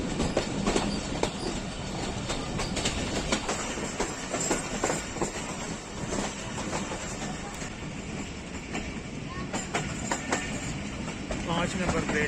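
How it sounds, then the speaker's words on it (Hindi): The 12 Down Hazara Express arrives at Haripur Hazara station with a steady, loud rumble and clickety-clack of wheels over the rails and faint squeals, continuous throughout, with voices in the background. "हरिपुर हज़ारा पहुंच गई है 12 डाउन हज़ारा एक्सप्रेस"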